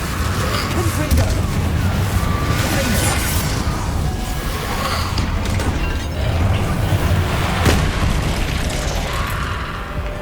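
Repeated explosive spell blasts in Hogwarts Legacy, dense rumbling booms and bursts filling a continuous loud battle soundscape, with a voice calling out spells over the din.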